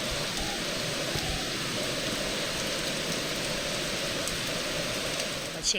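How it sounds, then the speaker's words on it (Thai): Heavy rain pours steadily at a lakeside campsite on Lake Superior in Michigan's Upper Peninsula, a dense, continuous hiss that stays loud and even throughout with no voices. "ฝนมาอีกแล้วทุกคนหนักกว่าเดิมอีกทีนี้"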